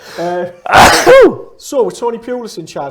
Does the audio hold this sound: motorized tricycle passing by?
no